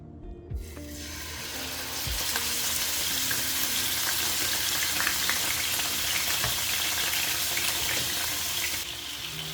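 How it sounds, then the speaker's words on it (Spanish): Iberian pork pluma hits hot oil with a sudden loud sizzle that then holds steady and close, with a brief running-water or tap sound at the start and no voices. "Ya tenemos caliente el aceite, vamos a echarle la carne"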